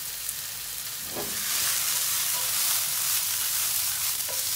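Mushrooms with persillade frying in a pan, giving a loud, close, continuous hissing sizzle that swells slightly midway, with a couple of faint utensil taps and no speech.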